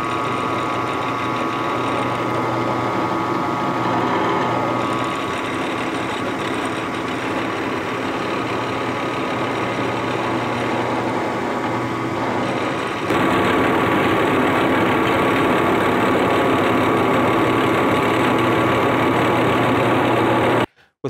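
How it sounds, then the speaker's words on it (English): A drill press runs steadily while boring holes through PVC pipe, a continuous motor whine with a slight shift in tone partway through, then cutting off abruptly at the end. "That lets me use the seam in the PVC to line up the drill press so that all of four of the corners come out the same."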